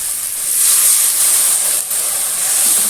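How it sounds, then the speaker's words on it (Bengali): Masala spices with a little water hiss and sizzle loudly in a hot pan, a constant bright steamy crackle close up. "আমি অল্প একটু জল নিয়ে মশলাটাকে ভালোভাবে কষে নেব।"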